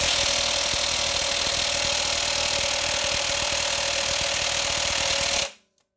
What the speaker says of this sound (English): Now let's remove the crankshaft pulley. Use a 27 millimeter and an impact gun.